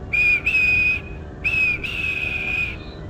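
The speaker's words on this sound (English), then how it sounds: "And he blew his whistle." Bright, steady whistle of a steam locomotive sounding loud and close in three long blasts with short gaps, each held at a single high pitch.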